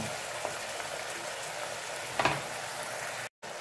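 Water splashes into a hot frying pan while cooking rad na noodles with sausage and fried egg, giving a steady low sizzle with a brief louder hiss burst near the middle, no talking.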